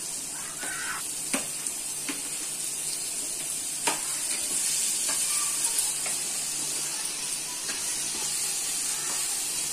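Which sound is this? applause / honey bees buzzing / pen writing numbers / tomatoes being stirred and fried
tomatoes being stirred and fried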